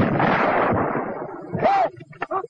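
A 37mm anti-tank gun fires shells at a concrete target 800 yards off, a loud, broad blast and rumble filling the first moments before falling away, with short sharp bursts and a voice following near the end.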